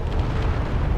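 A Rhino missile striking a ship in Space Engineers lands as a loud, dense explosion with a heavy low rumble that holds steady through the whole second, close and with no talk over it.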